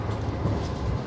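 A fast-running Sawunggalih passenger train heard from inside a shaking carriage at the tail of the rake, a dense low rumble with rattling and jolts, loud and close, with no speech.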